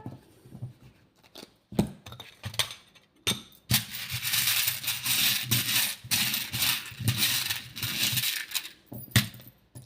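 Small charms dropped for a divination reading, a few clinks followed by a sustained metallic jingling and rattling cascade, close and moderately loud.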